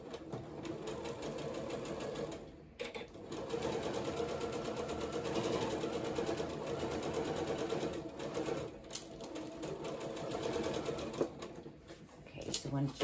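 A sewing machine runs continuously while sewing a 5/8 sleeve seam on a garment, a steady close mechanical whir with brief dips in speed throughout.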